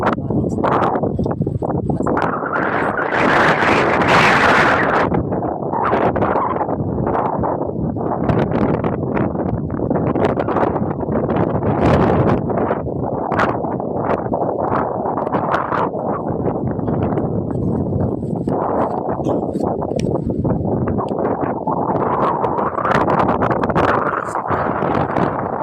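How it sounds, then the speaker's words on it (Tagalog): Strong gusting wind buffets the microphone at a seaside campsite, a loud continuous roar with swelling rushes throughout, and a voice speaks briefly now and then beneath it. "Sobrang lakas ng hangin"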